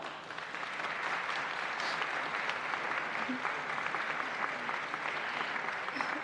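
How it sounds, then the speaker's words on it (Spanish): Sustained applause from a lecture audience, dense and steady clapping that fills the whole stretch at moderate distance, with no voices standing out. "Un aplauso, por favor."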